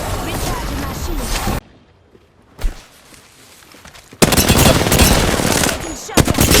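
Gunfire in the shooter game Apex Legends comes in loud, dense automatic bursts, stopping for a quieter stretch with a single shot before another long volley, and game voice lines are spoken.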